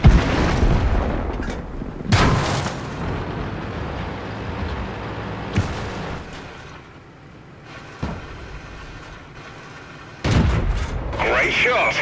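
Heavy tank cannon shots boom from the World of Tanks game, where a Cromwell fights on the Berlin map, with several loud blasts and rumbling engine noise between them. Game voice lines speak over the action.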